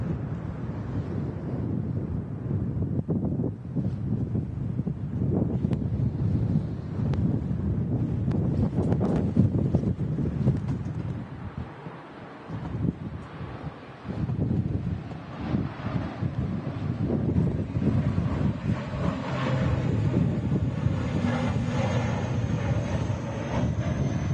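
Loganair ATR 72 turboprop departing Manchester Airport in strong storm winds, a steady engine drone buffeted by heavy wind noise on the microphone, continuous and fairly loud throughout.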